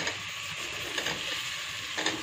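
Sliced okra (vendakkai) sizzles steadily in a hot pan as it is stir-fried for a Tamil-style poriyal, a constant close hiss of frying with faint stirring scrapes and no voices.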